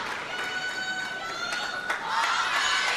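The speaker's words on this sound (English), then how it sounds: "all the noise is from these Chinese fans chanting the name of Wang Manyu" Chinese fans fill an arena at a table tennis team match between China and Sweden in London, a dense roar of crowd noise with rhythmic chanting and scattered cheering that swells louder toward the end.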